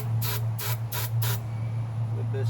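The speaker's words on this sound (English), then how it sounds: "A little bit of starting fluid." Starting fluid sprays in four short, sharp hissing bursts into a long-neglected Briggs 17 hp opposed-twin engine, heard close over a steady low hum.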